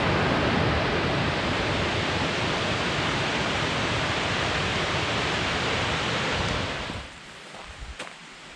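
An impressive waterfall on the Foothills Trail roars as a dense, steady rush of falling water that cuts off abruptly near the end, leaving quiet outdoor ambience.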